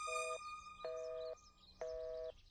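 A telephone busy tone repeats in three evenly spaced beeps after a caller hangs up, each about half a second long with short gaps between them, heard clearly and alone.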